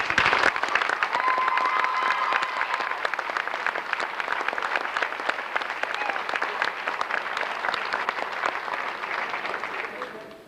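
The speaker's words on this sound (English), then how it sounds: "I think Coach Evans deserves a round of applause too." Audience applause at a football team post-season gathering, sustained crowd clapping with crisp individual claps over a dense bed, a few voices in the mix, fading toward the end.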